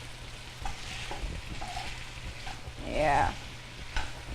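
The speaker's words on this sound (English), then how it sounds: "And start stirring up. Getting that quintessential stir fry smell and look now." Tofu stir fry sizzles in a pan as it is stirred, a soft frying hiss with a few scraping clicks, and a voice briefly speaks under it.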